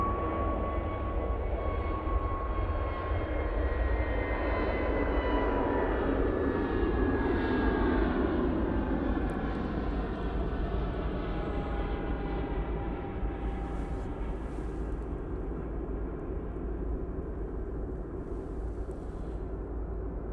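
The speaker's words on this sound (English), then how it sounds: "That is their A320 Neo going off to Enfida" An orange Airbus A320neo departs Manchester Airport for Enfidha, its jet engines a loud sustained roar with descending whining tones as it climbs away, fading slightly over time.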